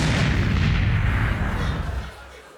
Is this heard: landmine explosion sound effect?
yes